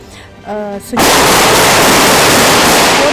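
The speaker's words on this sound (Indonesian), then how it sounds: "Di dalamnya ini terdapat musuh dan suara tembakan tadi ini merupakan" A brief tonal voice-like sound, then a sudden loud burst of continuous gunfire from an Indonesian military combat exercise that roars on without letup, harsh and close.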